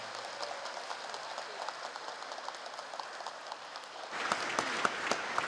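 Church congregation clapping during a parish patron saint feast Mass for Saint Ignatius of Loyola, a steady dense patter of many hands that swells louder and sharper near the end.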